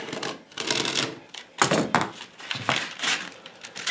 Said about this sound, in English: Score through that paper.